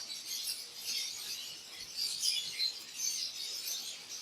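Lovebirds in a breeding cage give faint, thin, high chirps that come in scattered bursts against a quiet room.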